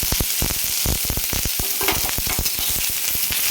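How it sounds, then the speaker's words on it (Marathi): Onion frying in a small amount of oil in a pan, a dense steady sizzle with rapid crackling pops and occasional stirring scrapes, close and loud without any speech. "तर छान आपण कांदा भाजून घेऊ."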